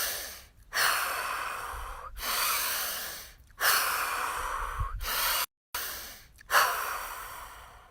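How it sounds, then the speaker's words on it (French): Three slow, deep breaths taken during a sunny morning stretching and breathing session: long, close inhales and exhales in a steady rhythm, each separated by a brief silence, with no talking. "on va refaire 3 grandes respirations comme on a fait au début pour détendre le corps de haut en bas"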